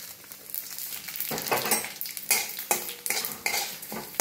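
Shahi cumin seeds dry-roasting in a pan while being stirred, with repeated rasping scrapes and rattling strokes in an uneven rhythm, close and fairly loud, and no voices.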